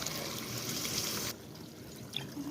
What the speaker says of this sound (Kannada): ಅದೇ ಬೇಳೆ ಕುಕ್ಕರ್ ತೊಳೆದು ಸ್ವಲ್ಪ ನೀರು ಹಾಕ್ಕೊಳ್ಳೋಣ